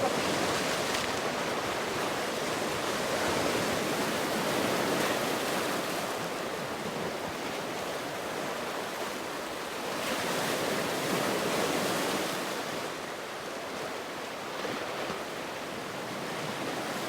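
Gentle ocean waves on the rocky Jeju coast, a continuous wash of surf swelling and receding in slow surges, fairly near, with light wind and no voices.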